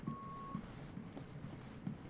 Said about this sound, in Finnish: Joku täällä piippaa.